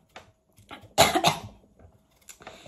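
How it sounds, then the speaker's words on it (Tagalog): An elderly woman with chronic bronchitis coughs in a few harsh bursts, one strong double cough in the middle with smaller coughs and throat sounds before and after, close and otherwise quiet. "inuubo po siya."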